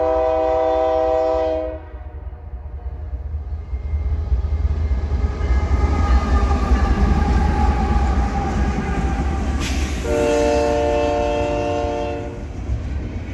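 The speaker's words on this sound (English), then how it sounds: "a UP stack train passed a set of Southern Pacific signals" A Union Pacific stack train passes on Donner Pass near Truckee, California, in winter, sounding its horn in a long chord, then rumbling and clattering heavily past for several seconds before a second horn blast.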